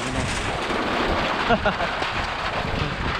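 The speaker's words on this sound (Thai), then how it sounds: "ฝนกระทบ" Steady rain hisses across a surface in a dense, continuous wash, with a faint voice briefly audible underneath.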